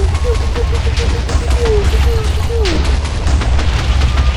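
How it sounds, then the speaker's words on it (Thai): Rumbling booms and crackling blasts from explosions in Minecraft, constant and loud, with a person talking over them. "ผมมีพลังระเบิดเปียวเปียวเปียว"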